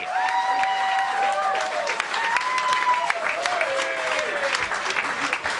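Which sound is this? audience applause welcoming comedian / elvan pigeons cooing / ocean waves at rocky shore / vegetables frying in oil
audience applause welcoming comedian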